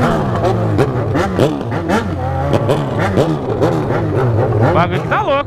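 Motorcycles, including a Honda CB1000 and Yamaha XJ6, and cars revving repeatedly outside a music show at night, loud close engine roars rising and falling in rapid bursts while someone talks excitedly over them.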